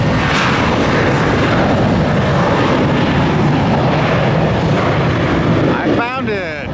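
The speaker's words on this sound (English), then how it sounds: "Looks like an Airbus A320." An Airbus A320 jet airliner roars loudly overhead near Tampa airport before dawn, a broad, steady rush of engine noise that holds throughout and eases slightly at the end.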